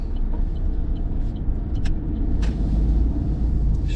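A learner car pulls away on a Bromley road, its engine rumbling steadily and close throughout with brief higher ticks, and no talk over it.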